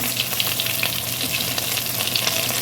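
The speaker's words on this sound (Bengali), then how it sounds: "এভাবে লাল লাল করে ভেজে নেবেন।" Potato-stuffed food fries in a pan, giving a steady, close hiss and crackle of hot oil throughout with no talking.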